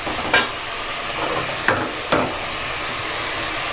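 Curry leaves sizzle in hot oil while fish curry cooks in a pan with onions and tomatoes. A steady hiss of frying runs throughout, broken by a few sharp crackling spits.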